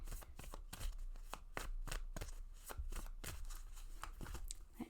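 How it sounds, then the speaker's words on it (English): A Moonology oracle card deck is shuffled by hand, a quick run of soft riffling card slaps and flutters repeating rapidly and close, with no talk over it. "I'm going to pull my Moonology deck just to see what the Moonology have to say for 2024"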